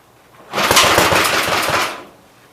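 A Big Blue 53 L engine fires and runs in a single loud, close burst of rapid chugging explosions lasting about a second and a half before cutting off.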